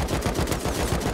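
Rapid, evenly spaced gunfire bursts in a first-person shooter video game, loud and continuous through the whole moment, like automatic weapon fire with no voices.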